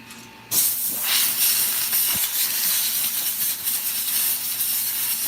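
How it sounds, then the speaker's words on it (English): A switched-off air compressor leaks air in a woodturning shop, a sudden loud, steady hiss that starts abruptly and keeps blowing without pause. "My compressor's getting weak."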